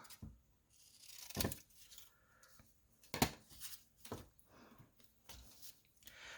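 Paper being trimmed for a summer journal: a few sharp, crisp cuts and rips at intervals, close up, with soft rustling and handling in between.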